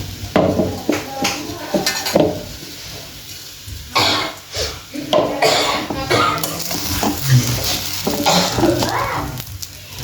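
Sabudana khichdi with salt and crushed peanuts being stirred in a pan, a continuous run of scraping, clinking spoon-on-pan strokes over a soft sizzle, close and fairly loud throughout.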